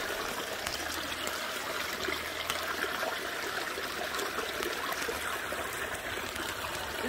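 Water trickles and splashes steadily in a small backyard waterfall as a conglomerate rock is rinsed under it, a continuous close wash of running water with no talking.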